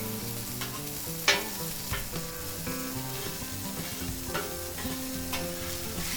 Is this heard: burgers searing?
yes